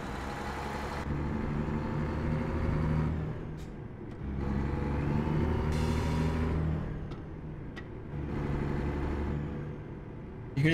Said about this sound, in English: That's the pressure relief valve kicking in and releasing some of that built-up air pressure.